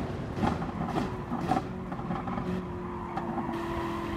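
Race car engine in Gran Turismo Sport revving and accelerating during a Manufacturers Cup race, a steady droning tone with periodic surges and faint tyre noise, continuous and mid-distance.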